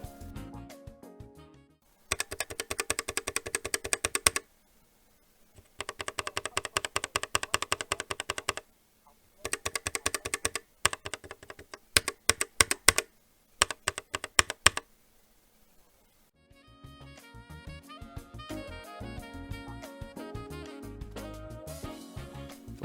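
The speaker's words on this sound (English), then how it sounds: "Here's the difference between a lubed and non-lubed switch" Mechanical keyboard switches, lubed and non-lubed, on a budget GK61X board are typed in several fast clattering runs with short silences between, the later passage sounding softer and more muffled.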